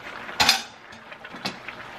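A lid is set on a cooking pot of beef pochero with cabbage, giving a close, sharp metallic clank followed by a lighter clink, alone in a quiet kitchen.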